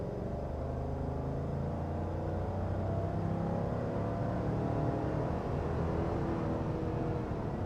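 A 2023 GMC Yukon XL Denali with a 6.2-liter V8 accelerating from inside the cabin, a steady low engine hum rising gradually under road noise, no voices.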